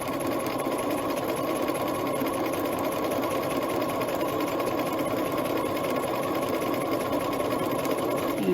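A sewing machine runs steadily, stitching along the edge of a patch pocket; the motor hums continuously, close and fairly loud, with no talk over it.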